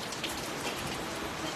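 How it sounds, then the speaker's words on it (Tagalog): Steady rain falling on a surface, an even pattering hiss at moderate distance with no voices. "Umuulan."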